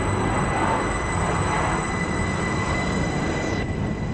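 A train pulls out of a station in Switzerland, a loud continuous rumble of railcars with squealing wheels and rattling carriages that holds steady throughout, with no voices.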